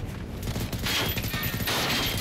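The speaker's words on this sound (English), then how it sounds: "I love it when I shoot, see the things hit" Gunfire in the open-world shooter Generation Zero: a dense, noisy volley of shots rattles for about two seconds, loud and close, with sharper cracks standing out near the middle and end.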